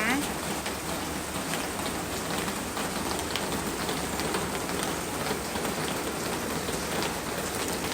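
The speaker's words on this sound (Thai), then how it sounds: "เช้านี้ฝนตกค่ะ เอาบรรยากาศฝนตกๆให้ดูนะคะ" Steady, dense morning rainfall on Koh Lanta patters on surfaces all around, a continuous hiss of drops with no voices.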